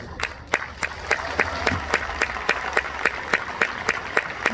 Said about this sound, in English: let's give this man another round of applause